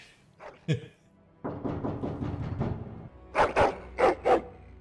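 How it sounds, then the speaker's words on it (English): A hound barks angrily in a video game, Dragon Age: Origins, in sharp bursts, a few scattered yelps first, then a dense run of barking and four loud, forceful barks near the end. "Angry barking and growling."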